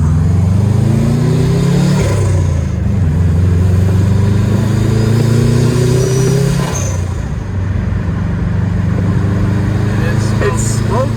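Rotary engine in a Mazda RX-7 FD fitted with a Mark 4 Supra front end runs loud and close, rising and falling through revs with a rough, buzzy drone that holds steady throughout.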